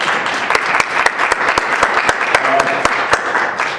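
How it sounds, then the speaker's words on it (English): Audience applause after a debate panel at a public event in Ellensburg, Washington: a steady wash of clapping from a room of people, with some louder individual claps standing out sharply over the dense background. "I think they deserve a real big round of applause."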